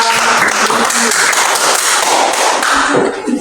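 Applause from a classroom audience of teachers at a coaching session: a steady, fairly loud wash of clapping sustained for over three seconds, fading slightly at the end.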